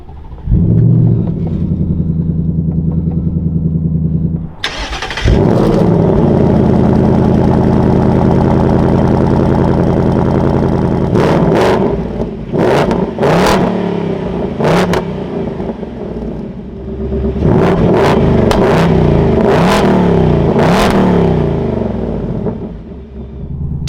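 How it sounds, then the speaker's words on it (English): A 2024 Ford Mustang GT Premium cold-starts with a loud burst, settles into a rumbling idle, then gets several sharp revs, close and loud with no talk. "keep my foot on the brake, we can fire it up."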